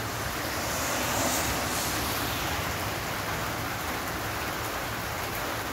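Heavy rain pours down in a dense, unbroken hiss of drops striking surfaces, steady and close throughout with no voices over it.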